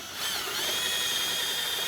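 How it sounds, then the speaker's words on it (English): A power drill whines steadily at high pitch after a brief start, drilling out rivets on a Ski-Doo snowmobile tunnel, a continuous close-up drilling sound with no talking. "you can finish drilling through it"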